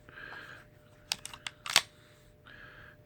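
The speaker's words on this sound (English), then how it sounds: "I'm going to take the mag out" Magazine pulled from a Tanfoglio Stock 2 9mm pistol: a cluster of sharp metallic clicks and one louder snap near the middle, set between stretches of faint background hum.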